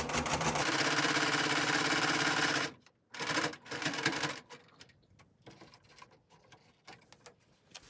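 A sewing machine stitches a fabric AB mask in a loud, fast, steady whir for a few seconds, then stops abruptly. A brief burst follows, then scattered light handling clicks and fabric shuffles.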